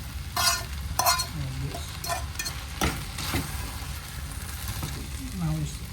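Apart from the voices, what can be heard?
egg frying in a pan for tofu stir fry noodles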